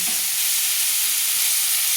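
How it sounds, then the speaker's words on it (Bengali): Salt-and-turmeric marinated prawns sizzle in a kadai with already fried eggplant and onion, a steady close, even hiss of hot oil with no talking. "সেগুলো কিন্তু আমি বেগুন ও পেঁয়াজ ভাজা কড়াইতে দিয়ে দিলাম।"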